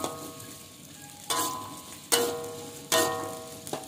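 Shallots and garlic heating in a pan for fish-ball fried rice: a soft, steady sizzle broken by a few sharp scrapes and clinks as a utensil stirs the pan.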